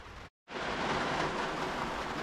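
Heavy downpour drumming steadily on a car roof and sunroof, a dense loud hiss that cuts out briefly near the start then resumes unbroken.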